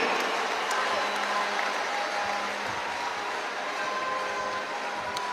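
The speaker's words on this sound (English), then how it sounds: "Give Jesus a clap of praise." A church congregation claps in praise during a testimony service, a continuous dense patter of clapping heard at moderate level alongside a faint voice and background hum.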